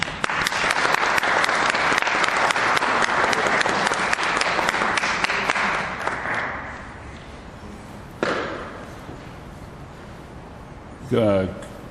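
An audience applauds at length as the speaker is welcomed to the stage: dense, loud clapping that fades after about six seconds, followed by a couple of thuds and a brief voice near the end.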